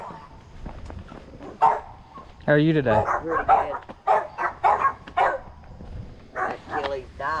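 Several dogs bark in short bursts through a yard sale, fairly close and mixed in with people chatting and haggling over prices.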